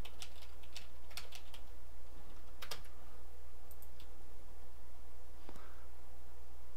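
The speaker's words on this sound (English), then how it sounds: "I'm going to type in the username of the other person I want to give it to" Fingers tapping out a username on a computer keyboard while setting up Tabletop Simulator, a quick run of light clicky keystrokes in uneven bursts with short pauses, close and alone over a steady low hum.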